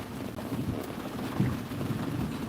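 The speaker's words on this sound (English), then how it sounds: "Look at this rain. Look at that rain. Coming down like crazy." Heavy rain pours down steadily outside a vehicle, a dense continuous hiss and rumble with no pauses, close and moderately loud.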